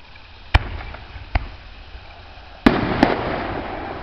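Fourth of July fireworks burst in the distance over a Western New York berry garden, several sharp booms and pops spaced irregularly, with a crackling rumble trailing the last pair.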